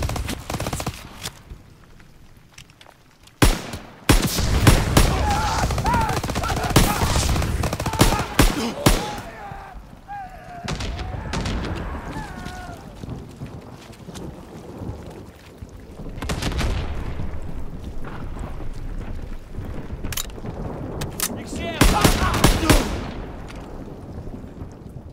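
Rapid bursts of gunfire and heavy booming artillery blasts crackle through a chaotic battle in Call of Duty: WWII, with loud clusters of shots separated by rumbling lulls.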